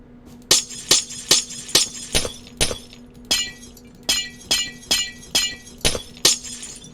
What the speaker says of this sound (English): Sounds like glass breaking, but it's not glass.